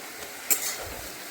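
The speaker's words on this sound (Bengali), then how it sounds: "আর একটু সময় ভাজা হোক।" Saag greens frying in a pan, a soft steady sizzle with a brief louder stir or scrape partway through, close and fairly quiet throughout.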